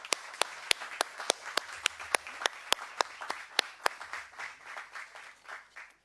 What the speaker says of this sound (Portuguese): uma salva de palmas para o meu autor